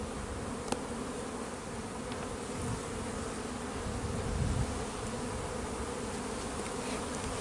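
Honeybees hum steadily around an open hive during feeding, a continuous close buzz with slight swells in loudness and no talk.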